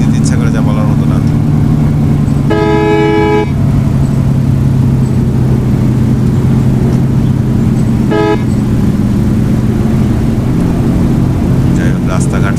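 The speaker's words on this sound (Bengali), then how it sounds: "আবার আমরা রিস্কে ওভারটেক দিচ্ছি বন্ধুরা, দেখতে পাচ্ছ।" A car overtakes on an open highway near Tangail, its horn sounding in two bursts, one long and one shorter, over a constant loud engine and road roar.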